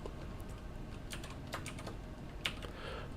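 Someone types quietly on a computer keyboard while entering code in a Python livestream, producing soft, irregular clicks against a steady background hiss with no talking.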